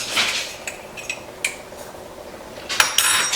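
A metal spoon digs into a container of whole cloves for homemade ketchup, making scattered close clinks and rattling scrapes in short bursts, with a busier clatter near the end and no talking.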